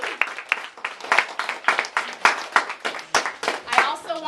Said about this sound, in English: I just want to give a final round of applause to all of the students who presented.